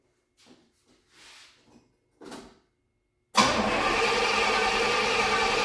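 A Pontiac Ventura engine with a new carburetor is cranked over after a few faint scattered sounds, then a loud, steady, close engine roar sets in abruptly and holds.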